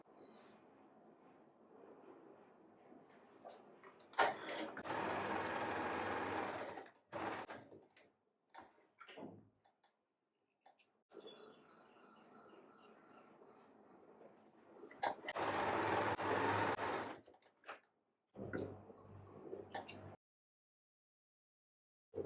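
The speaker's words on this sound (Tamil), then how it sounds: "இப்போ அடுத்தது வந்து நம்ம ஆர்ம் ஹோல் டாட் தைச்சிக்கலாம்" A sewing machine stitches an armhole dart on a back-open blouse in bursts of steady whirring, stopping and starting several times with quiet clicks and pauses in between, fairly close and moderately loud.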